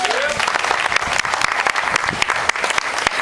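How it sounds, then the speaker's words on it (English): Audience applause at a Sea&Learn event, a crowd clapping steadily with sharp individual claps standing out close by, briefly mixed with a voice at the start. "Give them a round of applause."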